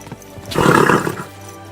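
A horse in the medieval game Kingdom Come Deliverance 2 gives a single loud whinny lasting about half a second, close by, with no talk over it.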